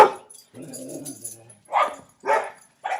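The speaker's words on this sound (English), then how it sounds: "sorry about my dogs" Dogs bark indoors in a few sharp, separate bursts, with a short whimpering, growly stretch between the barks, fairly close and alone.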